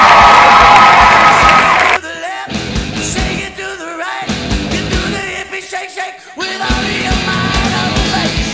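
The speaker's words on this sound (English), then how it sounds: "thunderous applause" A hypnotist show audience bursts into loud cheering and applause, a dense crowd roar with yells that swells and dips in waves across the whole stretch.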